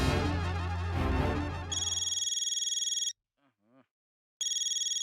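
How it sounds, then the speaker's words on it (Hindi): A telephone rings in a steady electronic trill that repeats in two bursts with a short gap between them. Other sound plays at the start and then fades, and a couple of faint chirps fall in the pause. "सबसे पहले तो चंकी को फोन करो, पूछो क्या है क्या ये"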